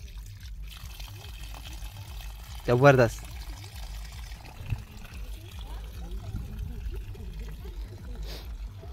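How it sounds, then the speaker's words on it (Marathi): Water flows steadily out from between rocks with a constant near trickling wash, broken by one brief louder splashing gush, while someone speaks over it. "आणि डागराच्या मधूनशी पाणी येतं मस्तपैकी"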